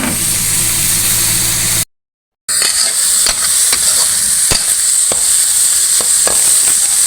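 Food stir-fried in a small pan sizzles loudly and steadily, with a spatula scraping and tapping against the metal at irregular intervals; the sizzle cuts out briefly partway through, then resumes with the same clatter.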